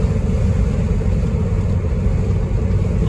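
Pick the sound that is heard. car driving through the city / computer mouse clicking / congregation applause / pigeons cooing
car driving through the city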